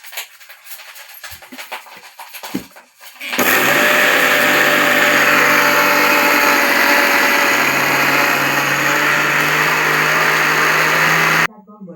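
A mixer grinder whirs loudly while grinding chutney, starting abruptly after a few faint clinks and running as a steady high motor drone for about eight seconds before cutting off.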